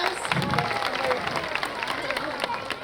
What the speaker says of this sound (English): Yeah, you can give them a round of applause.